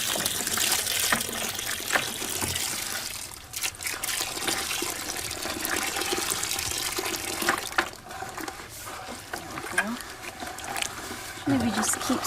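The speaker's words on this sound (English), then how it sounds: "if you will stir the clay with this while I pour water into it" Water poured into a container of dry pottery clay while it is stirred, giving a steady gushing and trickling splash with stirring knocks, close by and running beneath relaxed conversation.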